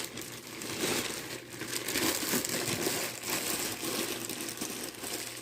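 Plastic packaging crinkles and crackles steadily as it is pulled off a Jurassic World Legacy Collection Diplodocus toy figure, close and continuous with no pauses.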